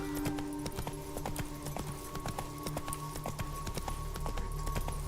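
In The Witcher 3, a horse's hooves clip-clop steadily at a quick gait over a constant low game ambience, sounding close and even throughout.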